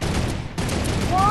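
Rapid video-game gunfire crackles in a dense, continuous burst during a Fortnite-style battle royale match, with a brief gap midway before the shooting resumes; speech mixes in alongside the shots.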